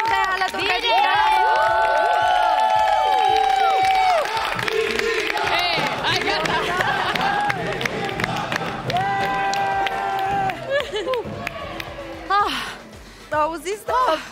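A TV gala show audience cheers and shouts loudly, with high excited voices, screams and clapping swelling together, then breaking into scattered bursts toward the end, while a voice talks over the crowd.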